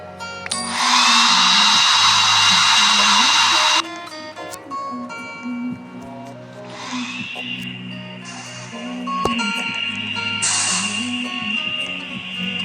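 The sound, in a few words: hair dryer blowing, from a video game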